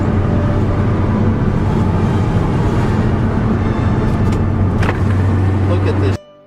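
A passing car with a loud aftermarket exhaust produces a steady low droning rumble that holds loud and close for several seconds before cutting off abruptly, while a voice talks over it.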